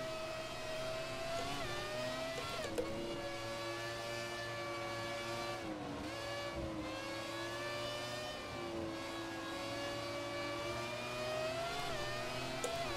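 A Formula 1 race car in F1 2017 holds a loud, steady high-pitched engine whine with shifting revs as the rear wheels spin and slide, continuous throughout with no talk.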